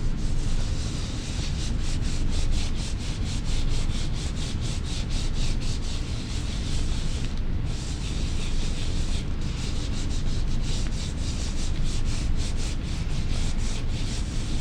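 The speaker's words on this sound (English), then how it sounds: "I'm going to hold it with one hand and rub, getting all the corners" A hand rubs paper over an inked print block to transfer a personal logo print, a close, steady scratchy rubbing of even strokes that carries on for about fifteen seconds with only brief pauses, with no talking.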